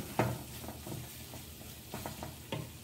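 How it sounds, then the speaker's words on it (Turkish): Kuymak cheese sizzles softly in a frying pan while a utensil stirs it, giving a string of light scraping knocks at irregular intervals over a low frying hiss. "Şöyle güzelce de karıştırıyorum arkadaşlar."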